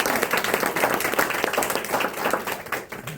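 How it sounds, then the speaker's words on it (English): Audience applause welcoming a speaker to the stage, a close, steady crowd of hands clapping for a few seconds that gradually tapers off. "please give Amy Rogala a round of applause"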